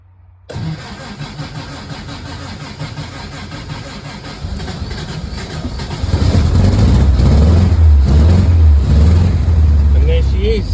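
An old engine that has been sitting is started with the choke: a rough, uneven cranking and sputtering run that catches partway through and swells into a louder, deeper, steady idle.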